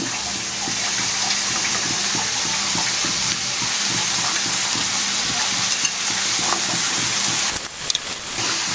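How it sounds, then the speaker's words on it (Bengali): Shredded cabbage fries loudly in a pan for a vegetable roll filling, a constant dense sizzle close up, with faint stirring scrapes and a brief clatter near the end. "দিয়ে দিচ্ছি পাতাকপি,"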